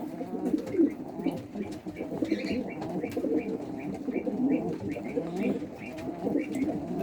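Adana pigeons coo in low, rolling repeated phrases close by, with scattered chirps and light rustling throughout.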